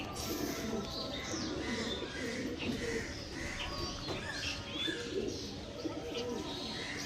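Pigeons kept in pairs for breeding coo repeatedly from close by, their soft, throaty calls overlapping with scattered chirps and a steady background murmur.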